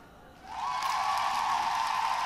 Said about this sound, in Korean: 졸리니까 박수 한번 쳐볼까?